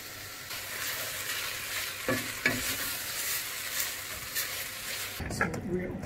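Shredded carrots and garlic fry with tomato paste for borscht, a fairly quiet continuous sizzle with a few stirring knocks, fading abruptly near the end.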